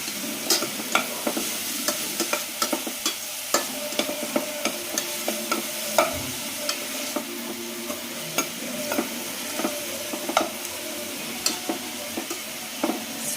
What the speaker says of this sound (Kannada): ಈರುಳ್ಳಿ ಒಂದು 5 ನಿಮಿಷ ಚೆನ್ನಾಗಿ ಎಣ್ಣೆಯಲ್ಲಿ ಫ್ರೈ ಮಾಡೋಣ